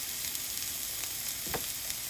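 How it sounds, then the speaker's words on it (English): Mushrooms sizzle and fry steadily in a hot pan, with a soft crackle throughout and a brief stirring scrape near the end. "our mushrooms are starting to sizzle"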